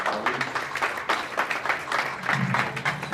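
Applause at a boxing post-fight press conference for Gennady Golovkin, fast scattered clapping from a modest room crowd, steady throughout with faint voices mixed in.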